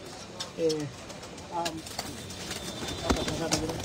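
Racing pigeons coo in soft, low, throaty calls, two distinct coos and fainter ones later, close by and mixed with background chatter and rustling.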